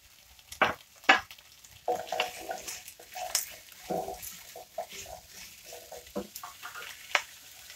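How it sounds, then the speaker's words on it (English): Carrots and celery are stirred into softened vegetables in a stew pan for a butterbean and vegetable stew, making a close, quiet sizzle broken by sharp scraping and clattering stirs at irregular moments. "Now we're going to add in our carrots"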